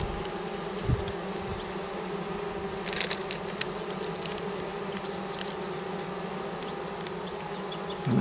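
Honeybees drone steadily in a queen-rearing hive box with its lid just replaced, a dense continuous buzz close up with a few brief knocks and rustles against the wood.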